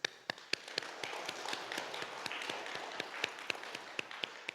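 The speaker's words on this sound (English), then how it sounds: "Do a little clapping." A group doing laughter yoga claps hands in a steady, even rhythm, sharp distinct claps repeating about every third of a second over a soft background of rubbing and room noise.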